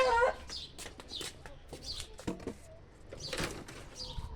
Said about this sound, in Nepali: भाले पनि अरू कति धेरै कुखुरा छ कि गोठमा आएको छु।